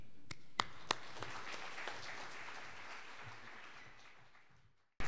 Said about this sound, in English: Let's clap for Ryan Eustis and start this session.